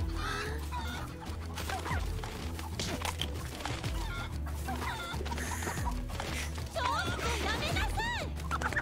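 Chickens cluck in a coop in a scene from the movie Bubble, a busy, continuous mix of clucks under constant music, effects and a dense background bed.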